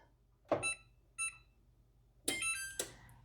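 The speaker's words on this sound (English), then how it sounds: "I'm going to put my timer on for 30 minutes" A kitchen timer being set for a rice pudding bakes, giving four short electronic beeps in two pairs, close and fairly loud with silence between them.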